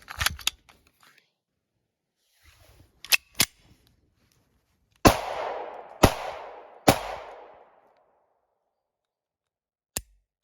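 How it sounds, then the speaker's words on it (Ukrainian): Three sharp, loud shots from a SUR TT-33 pistol ring out at even intervals during a test firing, each with a short echoing tail, preceded by clicks of loading and handling and followed by a single metallic click. "Зараз спорядимо три набої і зробимо тестовий відстріл."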